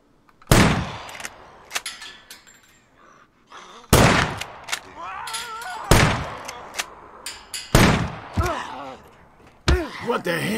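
Loud gunshots blast in the survival game SCUM, several sharp separated reports spread across the stretch, with someone talking excitedly and shouting between them.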